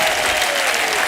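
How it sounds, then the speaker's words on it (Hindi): Studio audience on a Hindi TV comedy show applauds loudly as the host, Sunil Shetty, is welcomed, with a dense, steady wash of clapping that fills the whole moment without a break. "जोरदार तालियां अन्ना के लिए।"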